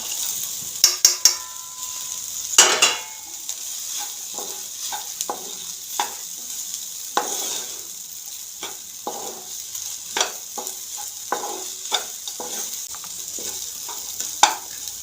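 Sweetcorn sizzles in a pan with lightly fried tomato, onion and capsicum under a steady, bright hiss. A utensil stirs it in repeated close scrapes and clacks, with no voices.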